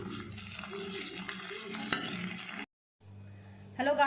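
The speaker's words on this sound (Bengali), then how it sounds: "কড়াইতে এই যে কিচমিচ দিয়ে দিয়েছি আর এই যে গরম মশলা গোটা গরম মশলা দিয়ে দিলাম ঘিয়ের মধ্যে দিয়ে এটা ভালো করে ভেজে নিয়ে" Raisins and whole garam masala fry in ghee in a kadai, sizzling and crackling for a couple of seconds before cutting to silence, then a quieter return of the frying sound.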